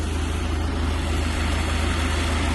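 Sprayer tank mixer churning herbicide mix, a steady mechanical hum with a low, even engine drone under it, close and continuous with no voices.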